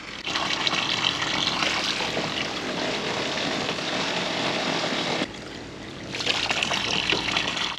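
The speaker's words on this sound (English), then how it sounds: "I'm going to fill the tank with this water" Drinking water from a tap rushes under strong pressure into a tank in France, a loud, steady broadband gush that briefly dips near the end before resuming at full force.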